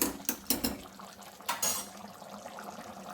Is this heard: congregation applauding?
no